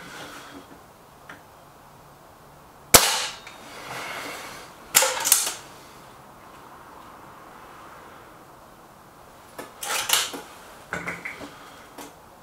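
A .22 air rifle firing JSB pellets: a sharp crack, then several duller snaps and mechanical clicks spread over a few seconds in a quiet room, with no speech.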